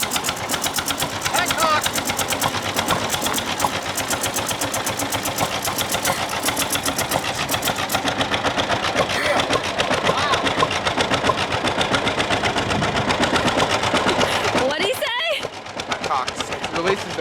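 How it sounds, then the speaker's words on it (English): A farm cultivating tractor's engine runs steadily with a dense, rapid mechanical clatter, loud and continuous, briefly dipping near the end. "So that's our cultivating tractor."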